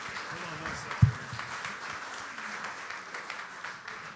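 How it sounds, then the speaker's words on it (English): A crowd at a club luncheon claps in a steady patter of applause while voices talk over it, with a sharp thump near the start. "How about a round of applause for Mike?"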